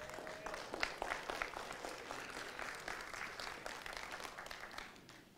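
A church congregation clapping together during a sermon, a dense burst of applause that peaks early and then gradually thins and fades, heard from a moderate distance.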